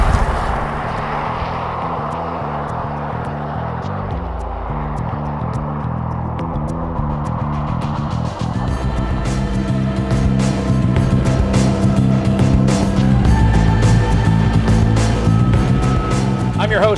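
A 2021 Ford Bronco Badlands Sasquatch drives off, its engine droning steadily and loud, rising into a fuller, higher-revving tone partway through as the vehicle picks up speed.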